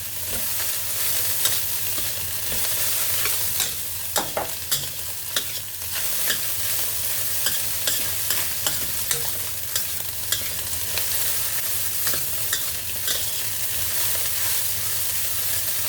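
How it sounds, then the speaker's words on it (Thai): Kimchi fried rice being stir-fried in a pan, a steady sizzle throughout with repeated scraping and clinking of the spatula against the pan in an uneven rhythm, close and continuous. "เราผัดประมาณนี้แหละ"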